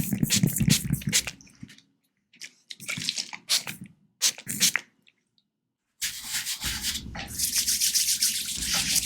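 Bare hands rub together close to the microphone in soft, dry, sanding-like swishes: several short bursts separated by pauses, then a longer unbroken stretch of steady rubbing.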